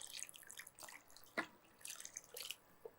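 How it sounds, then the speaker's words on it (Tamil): Water is poured into a pot of kannupillai-leaf rasam flavoured with lemon: a faint, intermittent trickle with scattered soft drips and splashes, heard close with no talking. "கொஞ்சம் தேவையான அளவு தண்ணி விட்டுடலாம்"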